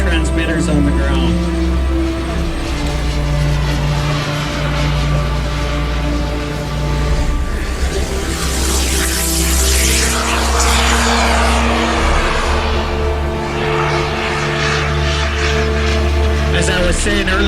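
RC model jets with real turbine engines burning Jet A or kerosene with turbine oil roar continuously at a flying field, a loud steady whine with a rising rush mid-clip, while people talk underneath.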